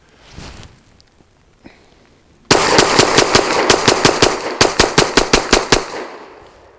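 A Saricam S19 pistol fires a long rapid string of shots into a dirt berm outdoors: loud, sharp cracks in quick succession for about four seconds, with a few faint sounds before it starts.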